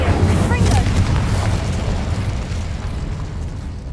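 Fire spell cast in Hogwarts Legacy: a loud, booming burst of flame at the start that rolls on as a roaring, crackling rumble and slowly fades over a few seconds.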